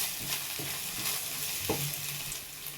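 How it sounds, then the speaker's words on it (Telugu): Soft sizzling of mint leaves and garam masala frying in a pan for Hyderabadi mutton dum biryani, with a few gentle stirring scrapes over a steady low crackle. "ఇప్పుడు మళ్ళీ దీన్ని కూడా కొంచెం ఫ్రై చేసుకుందాం"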